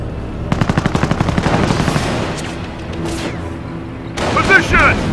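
Gunfire and explosions in a Company of Heroes Far East mod battle: a rapid burst of close machine-gun fire, scattered shots and a heavy boom with crackling debris near the end, alongside game sound and voice lines.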